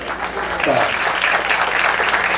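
Crowd applauding at a centenary celebration in Agustín Codazzi honoring a 103-year-old man, a steady dense wash of clapping throughout with some voices mixed in.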